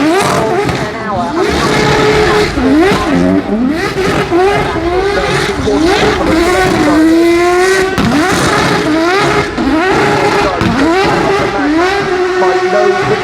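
McLaren P1 hypercar, a 1,000-horsepower hybrid, driven hard at the Goodwood Festival of Speed, its engine loud and constant with repeated rising revs and gear-change dips, under a commentator's continuous voice.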